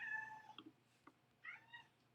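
A house cat meows twice, a short call near the start and a longer one toward the end, with a faint thump between, heard up close in a quiet room.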